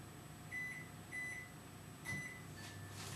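A microwave oven hums quietly while melting butter, with three short electronic beeps at steady intervals over the faint running drone.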